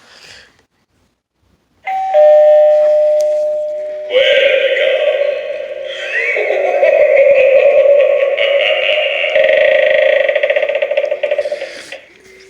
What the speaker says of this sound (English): Now to the doorbell.